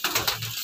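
Domestic pigeons being fed lentils and millet coo softly up close in a brief, low burst with a faint patter of movement.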